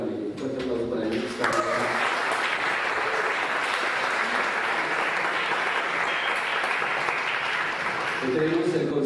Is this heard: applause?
yes